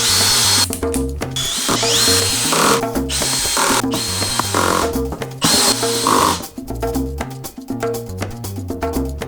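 A power drill drives screws into the metal frame of a Flexispot E7 standing desk during assembly, with repeated loud whirring bursts separated by brief pauses and no talking.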